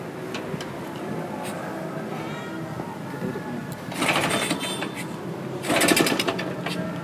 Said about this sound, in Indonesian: Oke guys, mau nyalain dulu motornya.